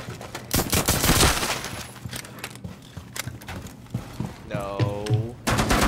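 Gunfire in the game Rainbow Six Siege, rapid bursts of shots crackling through a busy mix with an electronic whine near the end, loud and close.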